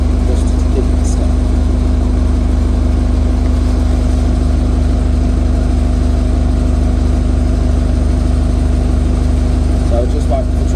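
A bus engine idles steadily in traffic on a Dudley to Stourbridge route while waiting at lights, a low constant rumble throughout with faint cabin noises.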